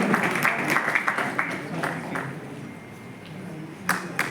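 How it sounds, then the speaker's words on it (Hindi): An audience at a literary festival claps loudly and continuously to welcome a speaker to the stage, forming a dense wash of applause with a few sharper claps standing out near the end. "मैं आपकी जोरदार तालियों के साथ उन्हें इस मंच पर आमंत्रित करता हूं।"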